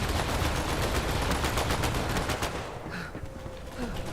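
Turret gunfire in Borderlands 3, rapid automatic bursts rattling densely and loudly for most of the stretch before easing off near the end.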